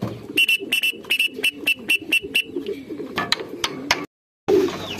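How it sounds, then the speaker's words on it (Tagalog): Racing pigeons back at their loft after a pooling race give a rhythmic series of soft coos and wing flutters, close and fairly loud, with sharp clicks and a man calling briefly over them. "Nakauwi na lahat ng ibon natin."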